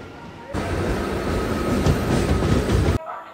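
A Kolkata-area local train in motion, heard from inside the carriage as a loud steady rumble of wheels and car noise that starts abruptly and stops just as suddenly.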